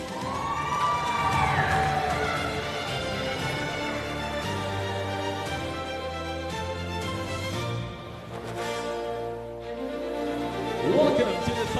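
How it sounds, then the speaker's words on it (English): An audience cheers and applauds at the Miss Eco International 2026 pageant final, a broad crowd roar blended with loud music throughout. "A big round of applause for Miss Eco,"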